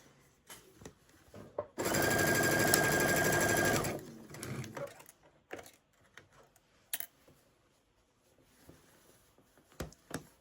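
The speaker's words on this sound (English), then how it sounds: "This is a Baby Lock Chorus sewing machine." A Baby Lock Chorus sewing machine runs a steady two-second burst of rapid stitching along a sweater seam, followed by quiet handling and fabric rustling with a few short clicks.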